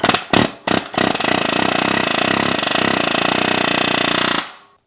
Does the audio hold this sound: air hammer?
yes